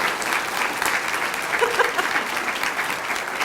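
An audience applauds steadily at a school district's State of the District event, a dense, even wash of clapping that holds throughout.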